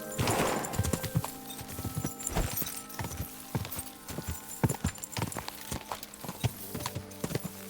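Horse hooves clip-clop in steady rhythmic strikes in Kingdom Come: Deliverance II, the sharp regular hoofbeats of a ridden horse standing out clearly over a low ambient game background, with no speech.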